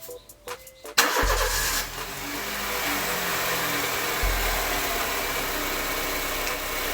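A 2012 Honda City engine cranks briefly after a few clicks, then catches and settles into a steady mid-pitched idle with a faint shift in tone partway through, close and fairly loud.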